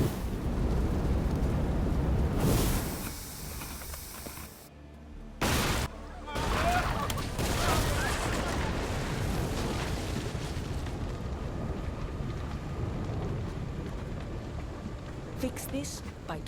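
Volley of ship cannon fire in Assassin's Creed Odyssey, heavy booming blasts and rumbling bursts layered over a steady battle din, with voices speaking among them.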